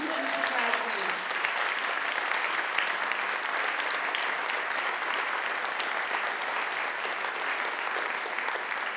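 Sustained audience applause filling the room, a dense, even wash of many hands clapping for the full nine seconds at steady loudness, with a brief voice at the very start.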